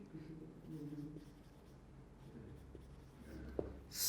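Chalk or marker scratching across a board in a chemistry lecture hall, soft irregular strokes under a low room hum, with a sharper tap near the end.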